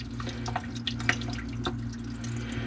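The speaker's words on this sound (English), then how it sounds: "It's because this is also draining in the wall as well." Water drains steadily from a kitchenette sink in a hotel after the line was snaked, with soft trickling and scattered drips close by and no talking.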